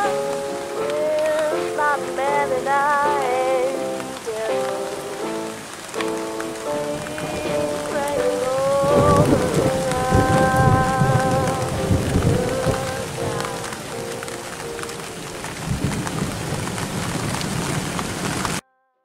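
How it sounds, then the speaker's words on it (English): Heavy rain falls steadily in northeastern Tasmania, a dense continuous wash that stays loud throughout, with a musical tone running over it and faint low rumbles that may be thunder. "So the rain's set in"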